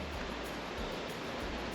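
A desert creek on an Owens Valley bikepacking trip rushes steadily, a dense broadband wash of flowing water heard close up with no voices over it.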